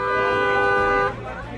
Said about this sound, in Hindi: हॉर्न बजाते रहे